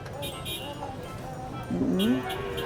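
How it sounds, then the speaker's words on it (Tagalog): A single low, drawn-out water buffalo low rises near the end over steady outdoor stockyard noise and a murmur of voices. "Mga kalabaw po dito banda"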